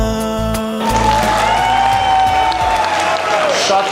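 An audience at a French and Russian wedding celebration breaks into loud, sustained applause and cheering that swells after a moment, a voice speaking briefly at the start before the clapping takes over.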